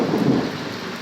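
Thunder rumbling through a heavy rainstorm, a loud, continuous low roar over steady rain hiss filling the whole second, with no voices.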